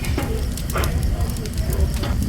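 Campfire crackling and hissing steadily while marshmallows are toasted over the flames, with a voice talking over the continuous fire noise.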